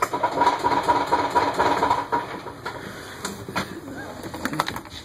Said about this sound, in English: But that is my golf cart. Let you hear what it sounds like. It's gas powered.